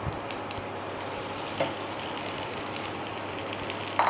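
Boiled, mashed potato goes into a hot pan of pepper-seasoned frying filling for crispy snack rolls, with a steady, close hiss of sizzling oil throughout, broken by a soft thump near the middle and a louder clatter at the end.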